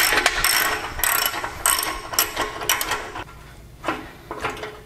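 A ratchet loosens an exhaust pipe clamp on a Harley motorcycle in a series of quick clicking bursts, stopping and starting in an uneven rhythm, close and fairly loud, with no talk.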